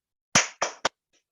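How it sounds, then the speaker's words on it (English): Three loud, sharp hand claps ring out close by, the first two evenly spaced and the third coming quicker and shorter, then silence. "I clapped loud for the first time"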